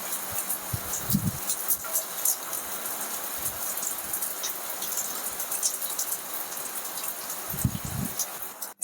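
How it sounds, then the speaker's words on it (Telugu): Heavy rain pours outside during a morning kitchen routine, a dense continuous hiss of drops close by, with brief low knocks and short bursts of voice. "ఇప్పుడు కూడా బయట చాలా వర్షం పడుతుంది."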